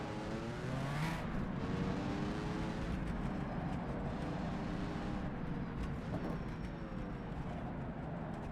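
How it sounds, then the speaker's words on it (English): A Ferrari race car engine in a racing game, heard from an external camera, makes a sustained engine drone. Its pitch sweeps up and down through gear changes, it stays steady in loudness, and no one talks. "Ferrari sounds so good from the external cameras."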